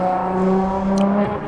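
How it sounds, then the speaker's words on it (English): Loud Ferrari race cars rev nearby at a racetrack event, a steady harsh engine drone with strong low harmonics that shifts pitch slightly near the end. "Loud Ferraris."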